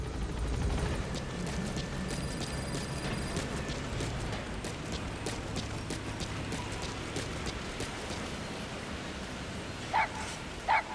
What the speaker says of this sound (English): And hey, it's D-Dog, or DD as Ocelot calls him. He's still a puppy here